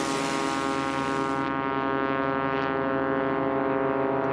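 Engine of a STOL plane at a STOL Drag race, an O-470 with 520 cylinders, running loud and steady with a strong low-pitched harmonic drone throughout, its upper hiss dropping away midway.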